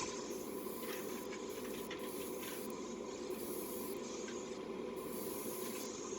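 A steady, continuous spray hiss of aerosol primer on a Dinky toy Mini Clubman door fills the clip, close and even, like an aerosol can held down without pause.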